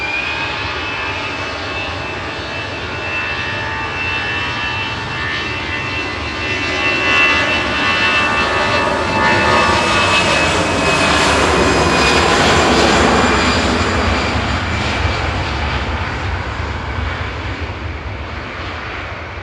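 An EasyJet jet airliner departs Manchester Airport on its flight to Barcelona, its engine roar loud and steady throughout, swelling toward a peak near the middle before easing slightly, with no talk over it.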